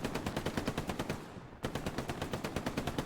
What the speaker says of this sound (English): Brente is getting attacked by Macro from the MG side here.